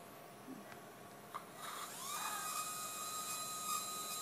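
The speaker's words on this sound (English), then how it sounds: "Go drill here." A high-pitched surgical drill whines up and holds a steady, thin tone, fairly faint, with a few soft clicks before it starts, during spinal surgery.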